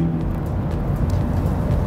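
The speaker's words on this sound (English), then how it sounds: "And the car will go by itself." A car pulls away by itself to park autonomously after being commanded from a smartphone app, giving a steady low rumble of engine and tyres at moderate distance with no talking.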